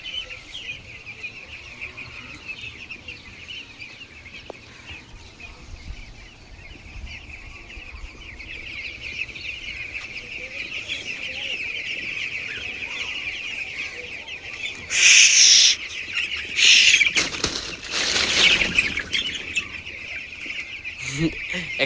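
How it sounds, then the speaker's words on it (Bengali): Flock of farm chickens startled by a noise, clucking steadily throughout, then several loud bursts of wing flapping and commotion near the end. "এখানে আওয়াজ করেছি আর সবগুলো মুরগি কিন্তু উঠে গেছে"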